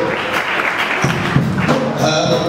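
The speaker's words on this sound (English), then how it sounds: "Clap for him, everybody." Guests at a wedding ceremony break into applause, a dense patter of clapping close by with some voices and crowd murmur mixed in.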